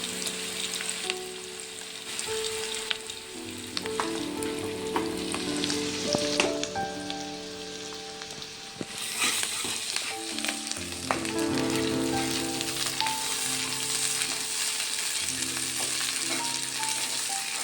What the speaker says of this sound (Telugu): పచ్చివాసన పోయేంత వరకు ఫ్రై చేసుకుందాం